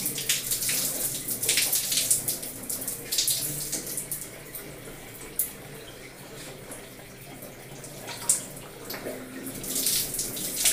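Water poured over the back of the head during a first hair wash after a hair transplant, a steady splashing and trickling stream with louder bursts, close and continuous, no talk over it.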